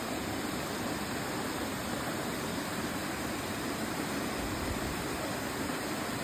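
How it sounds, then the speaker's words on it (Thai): Khlong Nam Lai waterfall in Khlong Lan, Kamphaeng Phet, pours in a steady, broadband rush of falling water, a constant even roar with no pauses and no voices. "น้ำตกเหรอคะ น้ำตก"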